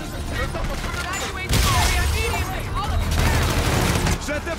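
Sustained gunfire in the Call of Duty: Infinite Warfare video game, a dense wash of distant shots and booms under a faint voice, swelling louder about a third of the way in and holding to the end.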